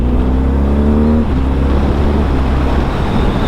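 A 2025 BMW R 12 nineT motorcycle rides on the road, its engine holding a loud, steady drone that shifts pitch after a gear change, heard close with wind rush.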